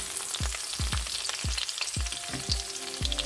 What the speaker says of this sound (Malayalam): ഇതിലോട്ട് നമ്മൾ എടുത്തു വെച്ചിരിക്കുന്ന നമ്മുടെ പച്ചമുളക് ഇട്ട് കൊടുക്കാം